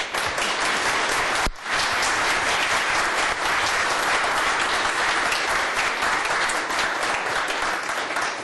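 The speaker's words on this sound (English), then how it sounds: "let's give them a big round of applause." Applause fills a city council chamber, dense sustained clapping from many people that holds steady for several seconds with only a brief dip near the start.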